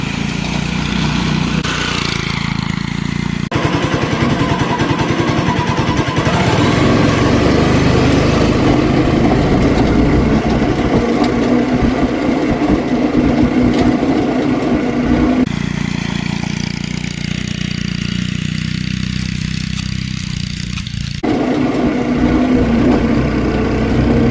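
A small engine on a homemade rat rod wagon go-kart runs steadily and loudly throughout its first test drive, a continuous buzzing drone with slight shifts in pitch as it moves.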